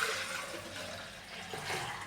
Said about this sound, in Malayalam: ഇനി ഇത് ഈ ജാറിലേക്ക് ഒഴിച്ചു കൊടുക്കുവാണ്.